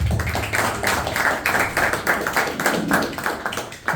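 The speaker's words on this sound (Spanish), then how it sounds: "Un fuerte aplauso" Audience applause at a Paraguayan literary conference, a brisk patter of many hands clapping at moderate loudness with no speech on top.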